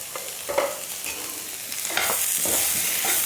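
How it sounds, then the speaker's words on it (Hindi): Potatoes seasoned with chaat masala and salt roasting in a pan, sizzling steadily while a spoon stirs and scrapes them in short bursts, close and fairly loud, growing into a fuller hiss toward the end. "और इसको थोड़ा सा भून लेंगे इस तरह से"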